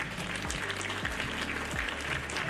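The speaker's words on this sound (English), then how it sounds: "And some applause." Faint, thin applause at a low level, a scattered patter of clapping mixed with low tonal sounds and a few sliding tones, quiet and somewhat distant throughout.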